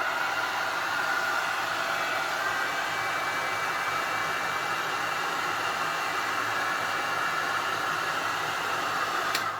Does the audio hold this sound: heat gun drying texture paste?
yes